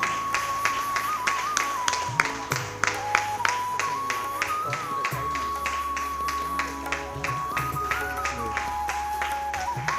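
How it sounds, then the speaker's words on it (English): An audience at a book release event claps in a steady, sharp rhythm to encourage a performer, crisp regular beats sounding over sustained musical tones. "Please continue with your claps and encourage Afan, please"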